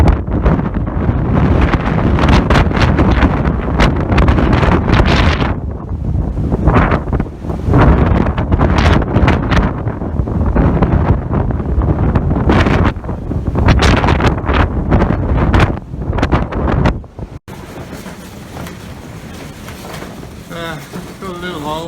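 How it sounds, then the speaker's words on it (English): Heavy wind from Storm Eunice buffets the microphone on a farm in loud, gusty bursts, easing in the final seconds to a softer, steadier rush. "It's pretty windy."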